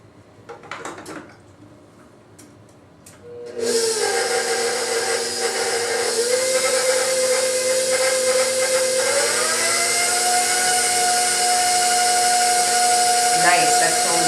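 Electric mixer whirs steadily while mixing champagne cupcake batter with powdered sugar, a loud continuous motor hum that starts abruptly after a few soft clatters and holds, its pitch rising slightly partway through.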